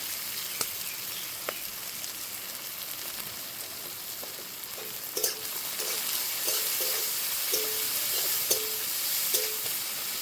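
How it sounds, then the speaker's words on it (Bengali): Onion and green chili frying with salt in a pan for a potato, eggplant and chapila fish curry, giving a steady sizzle and hiss with occasional stirring clinks and scrapes. "পেঁয়াজ কাঁচা লঙ্কা, পেঁয়াজ কাঁচা লঙ্কা একটু ভেজে নেব।"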